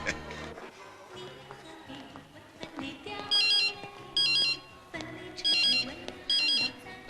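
A phone ringtone chimes in repeated bright bursts, four evenly spaced rings sounding clearly over a busy background of tones and other sounds, loud and close.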